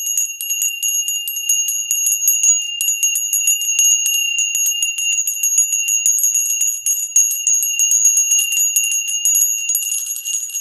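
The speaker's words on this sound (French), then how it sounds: "Les cloches du temple se mettent à sonner." Bright, high metallic temple bells ring in rapid, overlapping strikes, a continuous shimmering jangle with no voices.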